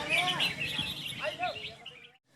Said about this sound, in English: here in the far deep south of Thailand, bird singing contest